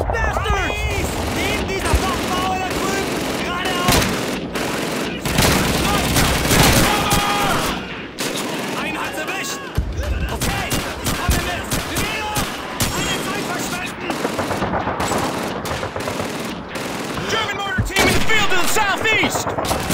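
Dense gunfire from Call of Duty 2 on a World War II battlefield in Beaumont-Hague, France: continuous rifle and machine-gun bursts with booming blasts, loud and unbroken throughout, mixed with shouted voices.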